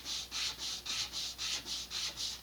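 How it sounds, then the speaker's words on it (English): Sandpaper rubbed back and forth over model rocket kit fins clamped together, about nine even rasping strokes in a steady rhythm, close and soft with no talking. "Grab a piece of sandpaper,"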